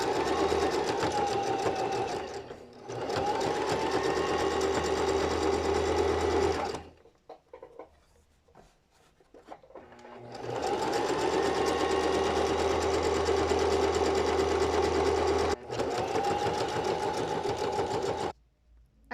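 A sewing machine stitches elastic onto fabric for an adjustable panty, running in two long, steady bursts separated by a quiet pause, then stopping near the end.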